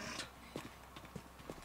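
Horse hooves clip-clopping in a medieval video game, a few separate steps spaced at an uneven walking pace over a low steady background, no voices.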